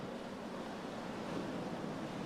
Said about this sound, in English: And I can just enjoy the waves.